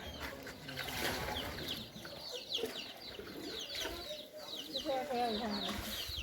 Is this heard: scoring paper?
no